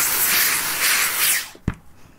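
Steam hisses onto a felt hat, a loud steady spray lasting about a second and a half before cutting off into a few quiet knocks.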